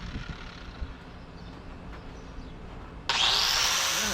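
Power sanding of a steel tube weld while squaring up the tube on a Suburban build: a quiet stretch of faint shop noise, then an abrupt, loud, steady abrasive hiss that kicks in near the end and holds.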